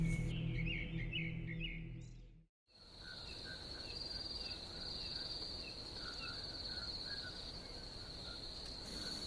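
Crickets chirp steadily through a night scene near a banana grove, a continuous high trill with faint bird-like calls, briefly cut by a moment of silence before the insect chorus resumes.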